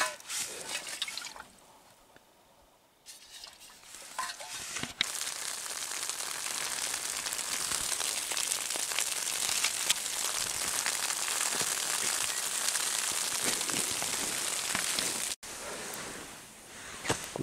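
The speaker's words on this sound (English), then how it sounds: "I thought first it was raining, but it was actually snowing." Snow falling on a tent sounds like a constant patter of rain on the fabric, a dense hiss of soft ticks that continues for many seconds, briefly quieter near the start and dropping away for a moment near the end.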